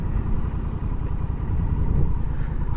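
Close, steady low rumble from the engine of a manual-gearbox Honda Rebel 1100T motorcycle at low speed during a slow in-place U-turn, with no talking over it.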